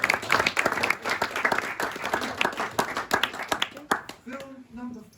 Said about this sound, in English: Round of applause to great execution.